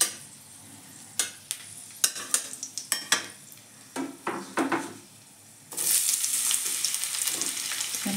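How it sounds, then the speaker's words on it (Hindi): Chillies frying in hot oil in a kadhai: a run of sharp utensil taps and stirring scrapes, then a loud, steady crackling sizzle that swells up and holds as the chillies hit the oil. "कढ़ाई में हम तेल डाल दिए हैं और उसके बाद मिर्च डालेंगे"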